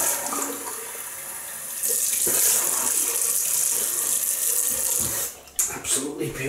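Tap water runs steadily into a sink for rinsing after a shave with a vintage 1958 Gillette Blue Tip Superspeed razor and Arko shaving soap, swelling into a louder gush partway through before breaking into splashes near the end.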